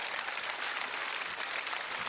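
An audience applauds steadily for a couple of seconds in a comedy TV show studio, a dense wash of clapping with no speech.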